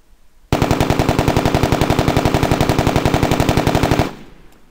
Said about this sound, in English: You can actually hear the sonic crack of the projectile passing. Before you can hear the gun itself.